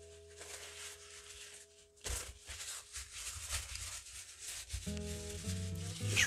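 A cloth rubs and wipes excess finish into the end grain of a wooden piece in close, scuffing strokes of varying intensity. Faint tonal sounds play underneath.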